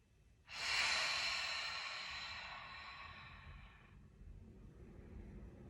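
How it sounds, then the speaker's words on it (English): A single long, breathy exhale during a gentle chair yoga session, soft and close, tapering off over a few seconds before quiet room tone. "Let's take a big exhale."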